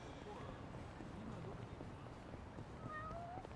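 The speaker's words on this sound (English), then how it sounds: "Meow." A cat meows in the video game Yakuza: Like a Dragon, a few faint rising calls heard over a busy, steady background of game sound.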